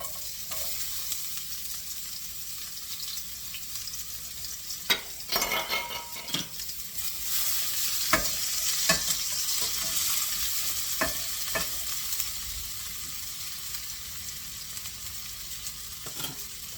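Shallots hiss and sizzle in smoking-hot oil in a pan, a loud steady frying roar throughout with occasional utensil scrapes and knocks as they are stirred, no talking.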